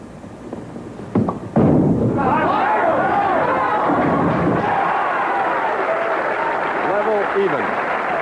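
A strike in a 1986 professional bowling championship telecast: a sharp thud and pin clatter near the start, then a loud crowd roar and applause swelling and holding for several seconds.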